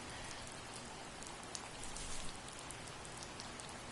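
Rain falls in the video game The First Tree as a steady, dense hiss of drops, with occasional slightly sharper patters and no voices.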